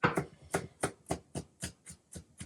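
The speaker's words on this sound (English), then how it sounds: "I've got this dried celery, so I'm just going to chop this real fine" Dried celery being chopped finely with a knife on a board, about nine crisp, evenly spaced cuts that sound close and fairly loud, with no voices over them.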